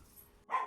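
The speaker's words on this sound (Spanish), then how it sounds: "Hay un perrito ladrando." A small dog gives two quick, sharp yaps close by in a ceramics workshop, breaking a quiet room.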